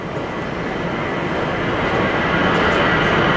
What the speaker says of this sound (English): Here, airplane flying by.